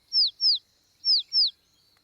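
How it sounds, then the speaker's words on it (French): Two pairs of thin, high, downward-slurred chirps from a cartoon baby bird, close and clear, separated by a short pause in otherwise quiet surroundings. "Nounou Prune, faites en sorte que cet oisillon gazouille"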